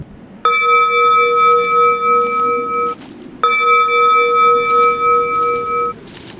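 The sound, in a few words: bell ringing in the distance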